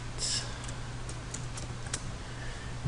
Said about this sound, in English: We will type welcome to our website.